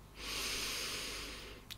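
One long, slow breath is drawn in through the nose during a relaxation exercise, a close, airy hiss that swells and holds for over a second before fading.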